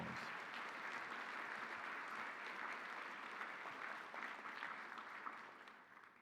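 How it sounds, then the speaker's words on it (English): An audience applauds at a virtual-era science symposium keynote, a dense, steady wash of many hands clapping that holds for several seconds, then thins and fades near the end. "please join me in giving AAAS a hearty round of applause"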